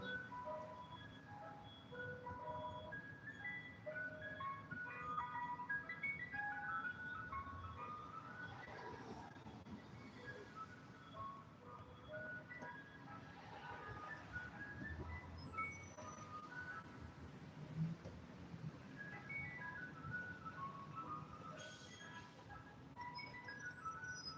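A passing ice cream truck plays its tinkling jingle faintly from a distance, and the melody drifts on for about twenty seconds over a constant low background rumble.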